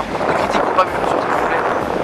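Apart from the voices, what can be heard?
wind noise on the microphone at the beach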